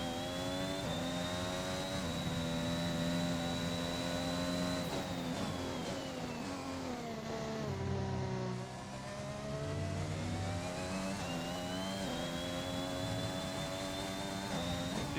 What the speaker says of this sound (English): You can see the revs are struggling to get up.